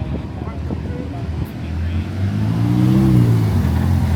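A Lamborghini Aventador S engine idles then revs up, its deep growl rising in pitch and loudness, close by with outdoor background.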